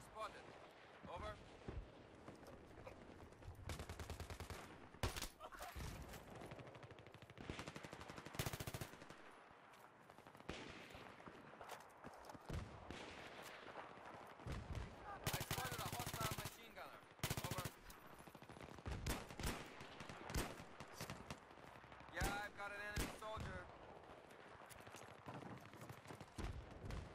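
Sustained machine-gun bursts and scattered gunfire in a Battlefield 3 battle, loud and dense with explosive booms, while voices talk over the shooting throughout.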